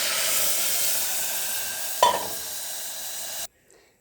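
Rice frying in a pan gives a steady broadband sizzle; at the midpoint a sharp burst marks water poured in, then the hiss continues more softly before cutting off abruptly near the end.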